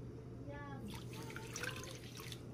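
Water is poured into a pot with half a kilo of brown sugar for dissolving, a faint, brief trickle and splash over a low steady hum.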